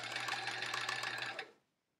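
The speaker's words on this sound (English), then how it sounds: "a Sears Kenmore machine from the 70s. This is my mom's machine that she had in college." A 1970s Sears Kenmore sewing machine stitches a quilt block seam through layers of fabric, a steady close motor whir with rapid needle chatter that runs for about a second and a half, then stops.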